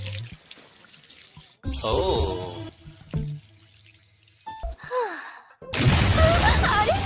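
Water from a tap runs over a person's head to cool it in a Hindi-dubbed anime scene, heard as several separate bursts of splashing flow, the last loud and close, between brief voices and a gasp.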